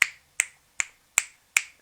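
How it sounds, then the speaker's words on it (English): Five crisp finger snaps ring out close and clear at an even, steady pace, each separated by silence. "I snap my fingers and his eyes get big."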